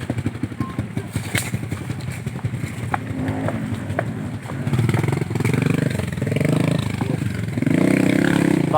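A motorcycle engine running nearby, rumbling and revving louder in the second half with clattery mechanical noise, some voices faintly in the background.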